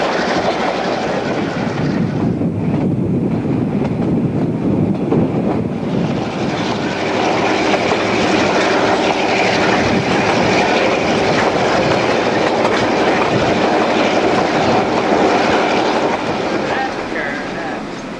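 A Newfoundland Railway mixed train climbs toward Summit in 1989 with a loud, continuous diesel roar and rumble of rolling cars throughout, heard close and without a break.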